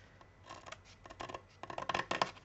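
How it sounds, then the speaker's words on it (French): Scissors snip through paper for a Christmas album, a quiet series of close, crisp cuts that quicken and grow slightly louder toward the end, with no talking. "vous allez prendre votre ciseau et vous découpez en fait ici"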